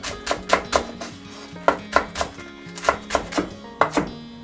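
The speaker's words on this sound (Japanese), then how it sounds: "長ネギを適当にみじん切りにします。" A freshly sharpened kitchen knife finely chopping Japanese long green onion (naga negi) on a cutting board, a quick run of sharp, regular knocks close up, over soft background music and with no talk.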